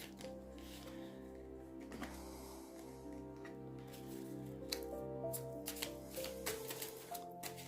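Tarot cards are shuffled in soft, repeated riffling bursts, quiet and close, with faint tonal music running beneath.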